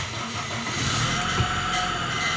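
A Toyota Corolla big body GLI with automatic transmission idles steadily after starting, a close, even engine hum with a slight rise in level partway through.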